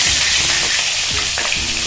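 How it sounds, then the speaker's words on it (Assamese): Fish sizzling in hot oil in a wok, a loud continuous frying hiss with crackling spits and a few stirring scrapes, close up and steady throughout. "এয়া কেৰাহীত তেল গৰম হৈ গ'ল এতিয়া মই দিবলৈ লৈছোঁ মাছৰ"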